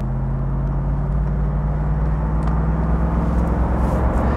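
A 1970 Mercedes 280 SE 3.5 Cabriolet V8 cruises with the top down at steady speed, a constant low engine drone and road rumble with wind noise, unbroken throughout.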